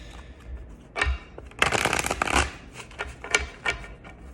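Tarot cards being shuffled by hand: bursts of riffling, flapping and sliding, one long flurry in the middle with shorter taps and shuffles around it, close and fairly quiet, with no talking.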